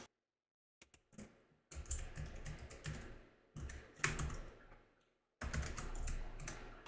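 Typing on a computer keyboard while naming a socket in Unreal Engine 5: close, crisp bursts of rapid key clicks separated by short silent pauses, with no talking.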